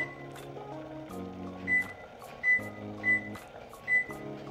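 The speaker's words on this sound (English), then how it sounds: "I'm going to set the timer for 12 minutes." A digital kitchen timer is set for 12 minutes while boiling mint chocolate syrup, giving four short, clear beeps at regular intervals over soft background music.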